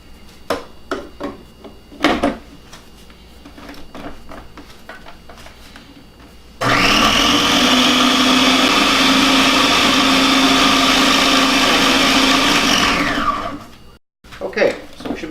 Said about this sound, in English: we've got our almond butter and our Splenda in the food processor. We're going to wait till those are blended really well